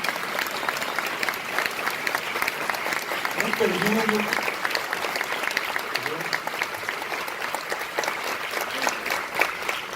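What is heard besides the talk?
audience applause welcoming a speaker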